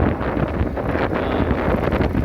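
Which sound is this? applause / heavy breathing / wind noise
wind noise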